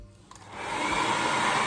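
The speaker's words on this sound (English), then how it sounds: "Turn your blow dryer on." A handheld blow dryer switches on and quickly rises to a steady, loud whooshing hum that continues without a break, with no talking.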